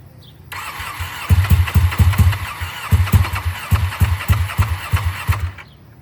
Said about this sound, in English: I tried to apply the throttle just to rev it up, and the bike shut off, and I couldn't start it after that.